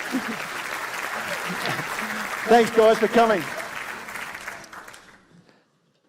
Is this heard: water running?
no